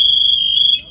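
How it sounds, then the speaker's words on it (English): A firefighter's SCBA manual distress alarm sounds as a loud, steady, piercing electronic tone held close by for nearly a second before it cuts off. "You also have a manual alarm system, so if you're in distress and need to alert another firefighter or anyone that you have an issue"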